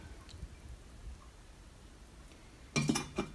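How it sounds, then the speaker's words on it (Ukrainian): Quiet room tone, then a brief metallic clink and rattle near the end as a lid is set onto a pot. "І тепер потрібно накрити кришкою"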